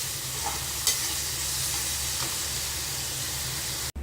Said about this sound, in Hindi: इसको अच्छे से मिला लेंगे और सब्जियों को सॉटे कर लेंगे